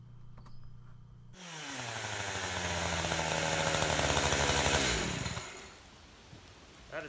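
A chainsaw idles, then roars into a cut through a tree for firewood, its loud buzzing swelling and bogging down as the chain gets pinched, before dropping off to near quiet.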